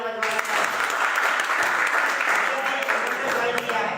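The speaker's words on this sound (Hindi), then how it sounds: "उनके लिए जोरदार तालियां बजवाना" Loud, dense applause for a guest fills the hall, a steady roar of many hands clapping throughout, close and full, with faint voices mixed in.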